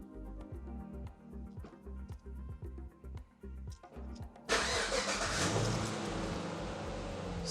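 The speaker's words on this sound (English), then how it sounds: "start the engine, all right" A car engine cranks with a rapid rhythmic churning for several seconds, then fires and catches into a steady running idle, fairly close and alone without talk.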